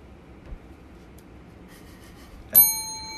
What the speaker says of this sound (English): And I'll ring the bell